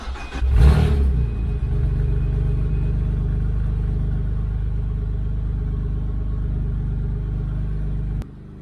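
A BMW 335 engine cranks and fires with a brief burst, then settles into a steady, deep idle rumble for several seconds before cutting off abruptly.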